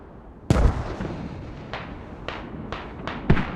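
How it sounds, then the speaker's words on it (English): Mortar shells striking near a hab in the video game Squad: a sharp, heavy impact is followed by several more distant booming hits spaced about half a second apart, each trailing into a rumble. "that's where the mortars are striking him down"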